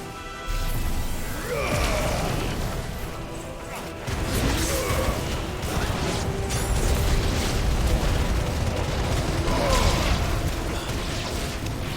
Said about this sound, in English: Let's just do a level 1 Mega Flare, see what that does.